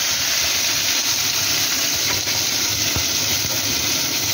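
Cut potatoes hit hot oil in a kadai already seasoned with five-spice and green chillies, giving a loud, dense, continuous sizzle and hiss up close, with no talking.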